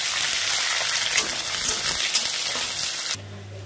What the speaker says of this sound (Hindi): अब हम इसमें प्याज डाल रहे हैं, इसको पकने देते हैं।